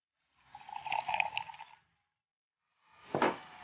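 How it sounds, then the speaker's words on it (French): Absinthe poured into a glass: a close, gentle liquid pour lasting over a second, then quiet, followed by a brief sharper splash or clink at the glass. "D'abord, vous versez l'absinthe."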